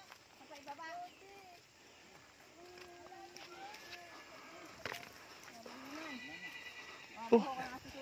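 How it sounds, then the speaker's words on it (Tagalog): A horse neighs with rising and falling whinnies, fairly close, while people talk quietly in the background and a louder cry breaks through near the end. "Narinig niyo guys, kabayo."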